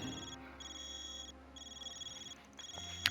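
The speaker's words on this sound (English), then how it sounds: "your Zypha's ringing. Why does it sound so weird, though?" A Zypha phone rings in the video game Trails beyond the Horizon, an electronic ringtone of repeated high tonal bursts with short gaps, fairly faint over a low background hum.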